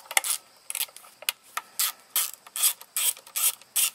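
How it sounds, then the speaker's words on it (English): A ratchet wrench clicks steadily in quick repeated strokes while backing off two 8mm nuts on a Honda EX1000 portable generator, close and crisp with a regular back-and-forth rhythm and no voices. "we're now going to remove these two 8mm nuts."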